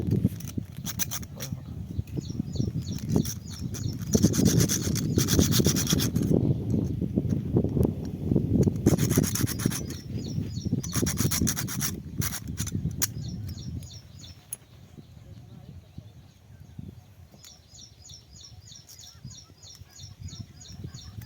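Rhythmic rasping strokes of a blade cutting through wood in a jungle, loud and close for the first half, then thinning to lighter intermittent scrapes with bird-like honks and ticking in the background.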